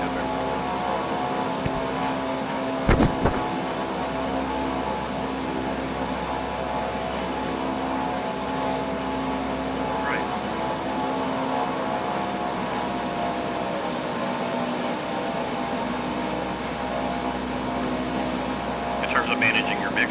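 Twin propeller engines of a C-47 Skytrain drone steadily in Microsoft Flight Simulator, a constant layered hum running throughout with a few brief clicks, while someone talks over it.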